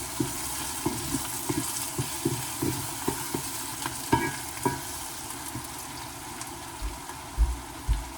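Taco filling frying in a pan over turned-down heat, a steady soft sizzle with periodic scraping stir strokes and a few louder low thumps near the end; no one speaks.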